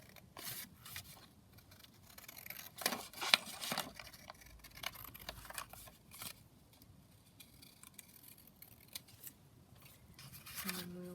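Scissors snipping through paper while cutting out a piece for a junk journal, with a series of close, crisp cuts and soft rustles, quiet and mostly alone.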